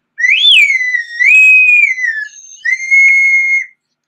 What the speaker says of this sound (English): And let's do the whistle.